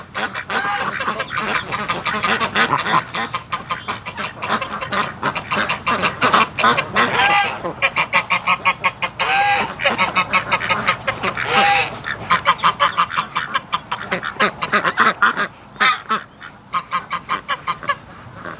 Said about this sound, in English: Oh, these silly ducks.